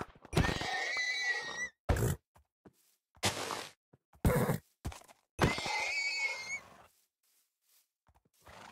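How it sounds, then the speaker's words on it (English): A crowd of horses in the video game Minecraft neigh and whinny in loud, close bursts, about five separate calls with short gaps between them and a few grunting snorts mixed in. "That is an abnormal amount of horses."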